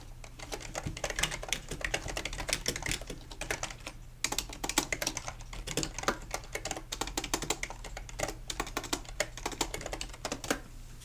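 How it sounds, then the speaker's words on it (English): Steady typing on a computer keyboard, rapid irregular clicks in bursts with brief pauses, close and moderately quiet, with no one talking. "So you'll hear me typing."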